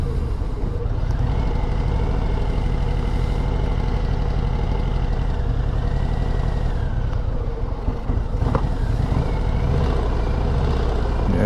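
A 2025 Harley-Davidson Low Rider ST engine runs continuously and loud, a dense rumbling drone with slight rises and dips in pitch as it is ridden, and no talk heard.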